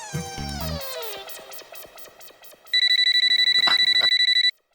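An old-style telephone bell rings in a domestic comedy scene, starting after some musical tones and then sounding as a fast, loud continuous trill for nearly two seconds before cutting off abruptly.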